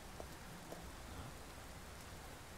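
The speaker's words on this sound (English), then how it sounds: "look at him standing there cool in the rain" Steady rain falls in the Persona 5 Royal video game, a soft continuous hiss with faint scattered drops and a low rumble beneath, heard alone at low level.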